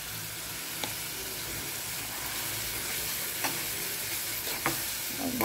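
Curry with curry leaves fries in hot oil in a home kitchen pan, giving a dense, continuous sizzle close up, with a few faint spoon taps against the pan.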